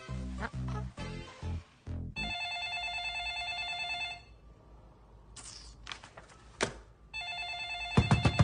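A telephone bell rings in clear bursts of repeated electronic trills, loud and close, with pauses between them and music-like sound near the start and end.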